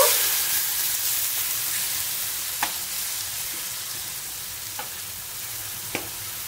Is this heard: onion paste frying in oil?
yes